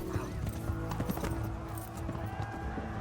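Horse hooves clip-clop at a fast gallop in the medieval video game Kingdom Come, with dense layered hoofbeats and occasional snorts over a steady game soundscape, close and fairly loud.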